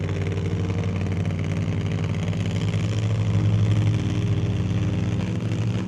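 A drag car with a Noonan-headed 521 cubic inch twin-turbo Hemi idles with a loud, steady, lumpy rumble close by at the drag strip. No one speaks over it.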